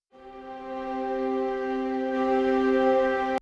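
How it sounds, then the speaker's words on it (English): A full ensemble of breathy flautando strings from Spitfire Chamber Strings holds one soft, airy sustained chord that swells gently and stays steady, heard alone. "the string flautando patch full ensemble"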